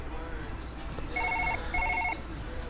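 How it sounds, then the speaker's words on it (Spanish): Electronic telephone bell ringing in two short trilling bursts, moderately loud, against a room background in a surgeon simulator game session, with a person talking around it. "Está sonando el teléfono y no llego"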